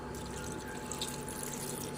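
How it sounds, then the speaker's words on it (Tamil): Water poured into a pan of chicken chukka during cooking, a continuous close splashing and hissing pour, with no talking. "இப்போ நம்ம வாட்டரை ஆட் பண்ணிக்கலாம்."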